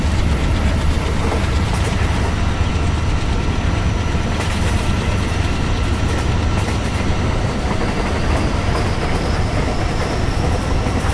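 An Indian train runs on the Central Railway route in Train Simulator Classic, a PC game, producing a continuous loud rumbling roll with faint clattering of wheels on track, steady and close for the whole stretch.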